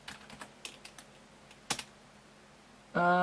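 Fingers type a short command on a computer keyboard, with a quick run of light, close keystrokes and a sharper final press, followed by a sudden steady electronic tone at the end.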